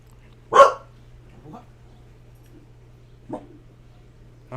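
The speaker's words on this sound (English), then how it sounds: "My dog decided to bark for no reason to be incredibly obnoxious." An indoor dog gives one sharp, loud bark. A couple of fainter, shorter barks follow after pauses, over a quiet steady hum.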